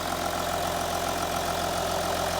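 Diesel Audi Q7 idling smoothly close by after its cylinder 4 fuel injector was replaced, an unbroken low drone with a quick, even ticking knock running through it, and no one talking.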